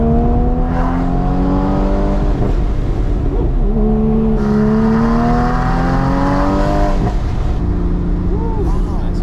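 A Porsche 981 Spyder engine revs loudly and continuously through its exhaust, its pitch climbing and falling in repeated sweeps close by.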